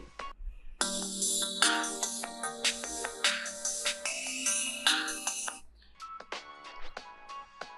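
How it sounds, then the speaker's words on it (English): A bright, melodic music track plays at low volume, its notes chiming steadily for several seconds before fading into sparser tones. "Did you hear the music?"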